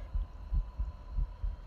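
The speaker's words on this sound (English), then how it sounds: "No, the heartbeat's still there." A low, muffled heartbeat pulses steadily in the horror video game Midnight Hours, with soft repeated thumps over a faint hum and no talking.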